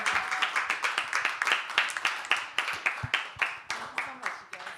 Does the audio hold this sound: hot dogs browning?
no